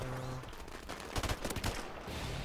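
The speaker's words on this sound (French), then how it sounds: "ça a l'air de tirer vers là" Gunfire in the video game Modern Warfare Remastered: a short cluster of rapid shots in the middle, fairly loud against steady game background ambience, with no speech.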